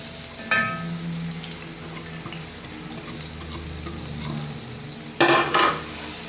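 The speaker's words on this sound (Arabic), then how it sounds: "ونستنى بس لما الزيت يسخن وهنضيف البصلة والفلفل" Chopped onion and green pepper hitting hot oil for a tomato-based mabakbaka sauce: a burst of sizzle near the start, a low steady frying hiss, then a second loud crackling burst near the end, close and without talk.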